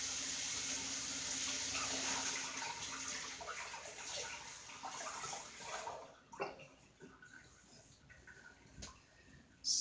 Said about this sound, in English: let me put this over in the sink real quick and rinse my hands